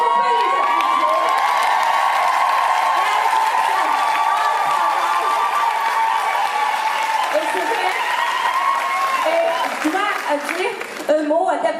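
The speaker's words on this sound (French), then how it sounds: "Est-ce qu'on peut les applaudir?" An audience at a conference applauds the organising committee, dense sustained clapping with cheers and whoops rising through the crowd, running loud and continuous before thinning near the end.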